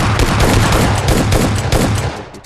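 Shotgun fire in the game PUBG Lite, a loud, dense burst of repeated blasts in quick succession, fading out at the end.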